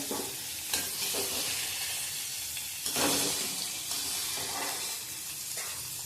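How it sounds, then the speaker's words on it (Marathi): Paneer frying in oil sizzles with a steady hiss, punctuated by soft stirring scrapes and bursts of louder spitting every second or so, close and without talk. "बघा पनीर तेलात हलकासा कलर आलाय, भाजून घेतले"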